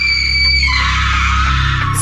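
A sustained, shrill, high-pitched scream in a comedy short, loud and steady for about two seconds before cutting off, with no talking over it.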